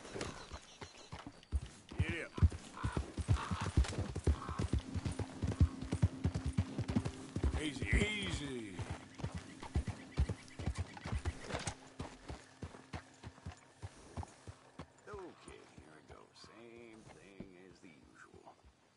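Rhythmic hoof clip-clops of a horse walking in Red Dead Redemption 2, close and steady throughout, with a brief whinny partway and quiet voices underneath.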